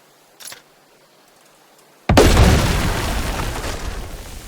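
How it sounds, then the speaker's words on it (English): In the World War II strategy game Headquarters WW2, a building blows up with a sudden loud boom, followed by a sustained roaring rumble of the collapse that slowly fades after a faint earlier pop. "The building collapsed."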